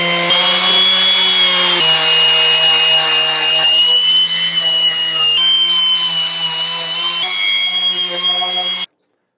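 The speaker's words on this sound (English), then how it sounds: "that is the sanding done" A power sander works over a live edge wooden worktop with epoxy fill for a campervan, a loud, steady whining drone whose pitch shifts in small steps as pressure changes, running continuously until it stops abruptly.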